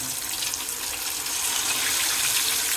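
Pieces of parai fish go into well-heated oil for frying, setting off a loud, steady, broadband hiss that swells slightly and holds without a break.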